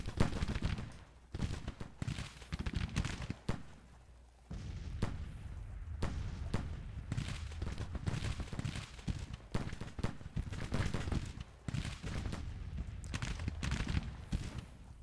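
Massed rifle volleys from Union troops in a Civil War battle game, Antietam, crackle in dense, overlapping bursts with deep booming reports, a continuous loud fusillade running throughout with brief lulls.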